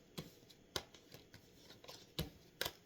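Tarot cards flipped over one after another on a table, giving a handful of crisp, papery slaps and clicks at uneven intervals, close and fairly quiet, with no voices.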